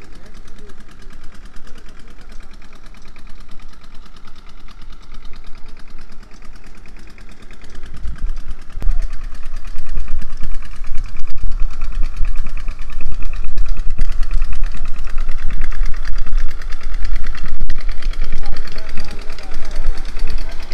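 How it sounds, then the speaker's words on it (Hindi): A village tubewell pump engine runs nearby with a low, steady chugging rumble that grows louder and heavier partway through as it comes closer, while someone talks over it. "ये उसके साथ ही ट्यूबवेल चल रहा है"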